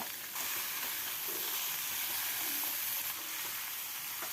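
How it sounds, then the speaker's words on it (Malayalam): Chicken sizzles in a pan with green chillies and curry leaves for a dry chicken curry, a steady close hiss of frying that runs unbroken and fairly soft. "പച്ചമുളകും കരിവേപ്പിലയും ചേർത്ത് കൊടുക്കാം ഒന്ന് ഇളക്കി കൊടുത്ത് ഇനി ചിക്കൻ ഇട്ട് കൊടുക്കാം"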